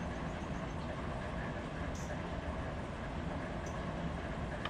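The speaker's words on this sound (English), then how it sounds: "it looks like the vehicle train's moving" A freight train rolling on an adjacent track of the Needles Subdivision, heard as a steady, faint low rumble with no distinct clanks or horn, unbroken throughout.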